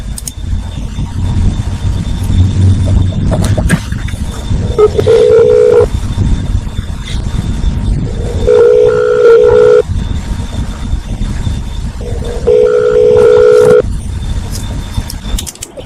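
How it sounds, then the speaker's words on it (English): An outgoing telephone call to a state civil rights office produces repeated electronic tone bursts, three evenly spaced rings over a steady low rumble like a car interior. "I'm calling Patricia Barrera from the Michigan Department of Civil Rights"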